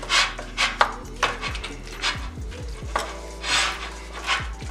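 Crab, spinach and artichoke filling chopped and stirred in a pan, with repeated soft scraping and knocking strokes in an uneven rhythm, close and fairly quiet with no voice.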